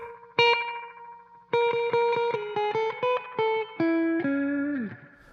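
Guitar notes played through an EVH 5150 Iconic amp with its reverb engaged, a run of clean, bright picked notes and chords each trailing a short, chirpy reverb tail, loud and close with no talking.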